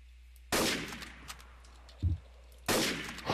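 Gunfire in the Trouble in Terrorist Town game, two sharp loud bursts of rapid automatic shots about two seconds apart, with a dull thud between them over a quiet low hum.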